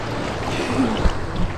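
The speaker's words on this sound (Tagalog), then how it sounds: "Ang laki ng alon." Big sea waves at a beach, a broad continuous wash and rumble of surf with a heavier surge near the middle, close and loud, no voices.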